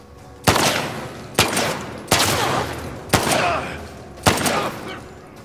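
Five loud, sharp gunshots fired by Mel in The Last of Us Part 2, spaced about a second apart, each one cracking close and trailing off into a brief reverberant decay.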